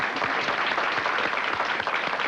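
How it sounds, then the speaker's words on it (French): Audience applause at a cooking award presentation in Saint-François-du-Lac, a dense steady wash of clapping from a crowd, continuous and fairly loud throughout. "mais qu'on va applaudir, Oh. Madame Ruth Guévremont de Saint-François"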